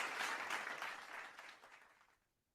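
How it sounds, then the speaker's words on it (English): Warm applause for a director at an online capacity-building session, a soft wash of many hands clapping that fades away over two seconds. "let us give a warm round of applause to Director Jan"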